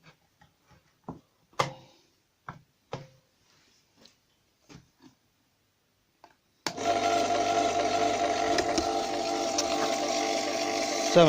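Malt mill for a microbrewery starts up after several sparse knocks and clicks, then runs as a loud, steady mechanical whir with grinding rattle and hum that continues to the end.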